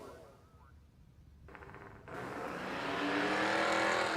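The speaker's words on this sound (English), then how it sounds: "That turbocharger really came in strong for him." A turbocharged drag racing car accelerates down the strip at a street drag event in Bunker Hill. Its engine roar builds steadily from distant to loud and sustained.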